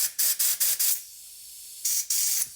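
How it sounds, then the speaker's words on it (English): Compressed air blasts through the holes of a Mercury 15hp outboard carburetor during an overhaul, four short loud hissing bursts in quick succession, a pause, then two more sustained blasts, with no talking. "I've also got some compressed air set up here."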